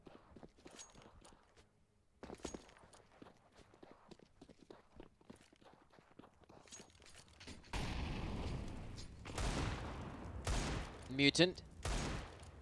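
Rapid gunfire bursts and footsteps in Counter-Strike on the Dust 2 map, sporadic shots early then dense loud firing toward the end, under a caster's excited commentary.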